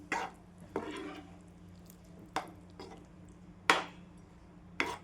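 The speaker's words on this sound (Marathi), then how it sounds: "नंतर एकदा छान परतून घेते." Stuffed ridge gourd (dodka) curry being sautéed in a pan, a series of separate scraping stir strokes with soft sizzle, about six irregular bursts over a quiet background, no talking.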